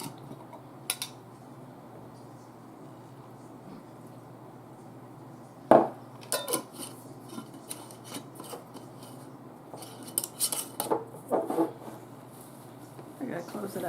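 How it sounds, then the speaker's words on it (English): Yellow cake batter thinned with added milk is mixed slowly in a bowl, giving quiet scraping and rubbing strokes with a few louder knocks, while someone talks. "I'm gonna mix this slowly."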